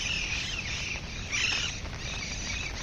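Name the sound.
birds chirping outdoors in the rain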